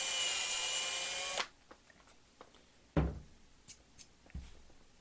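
A small drill bit enlarging a hole in a 3D printed plastic camcorder tripod mount, a loud whirring drill for about a second and a half, then stops, followed by several sharp knocks and taps.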